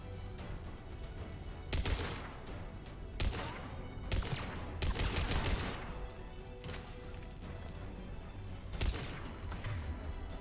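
Bursts of automatic fire from a hacked turret in Mass Effect 3, several separated volleys over a steady background of game noise, moderately loud and without talk.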